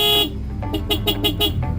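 A stock car horn sounds steadily, then breaks into a quick series of short, rapid toots, fairly close, with an engine idling underneath.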